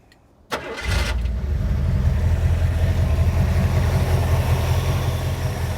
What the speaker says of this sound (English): the engine is just absolutely running amazing right now. So crank it up and let you hear it.